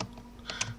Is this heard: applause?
no